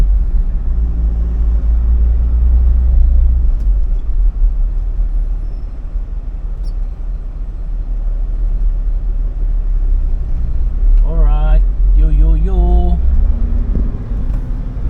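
Heavy road traffic near SM North in Manila gives a constant low rumble of engines and passing vehicles, close and loud, while a voice speaks briefly near the end.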